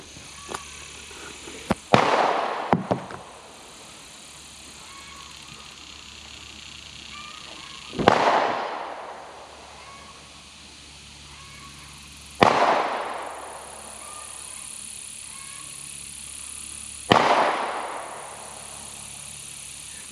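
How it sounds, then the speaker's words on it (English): Sharp gunshots from rifles and handguns at target practice on a rural homestead property ring out four separate times, each crack followed by a long, fading echo tail, widely spaced with quiet background between. "They sight in their rifles and target practice with their handguns."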